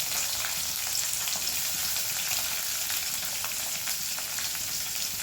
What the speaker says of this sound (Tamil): இது நல்லா எண்ணெயில் பொரிஞ்சிருச்சு ஒரு பெரிய வெங்காயம் ஒரு அரை வெங்காயம்